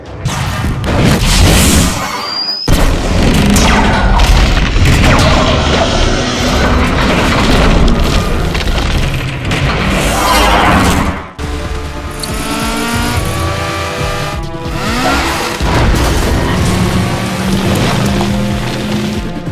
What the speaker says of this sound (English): Finally, the bridge is destroyed.